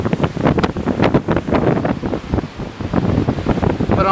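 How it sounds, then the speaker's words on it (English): Strong gusts from an outer band of Cyclone Yasi pound the microphone in heavy, rapid roaring bursts, loud and close, with no voices. "looking at about 65k gusts through here, and this is just from an outer band of Cyclone Yasi"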